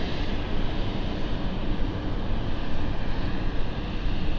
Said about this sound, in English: Yeah, it was probably the roughest landing we've had today.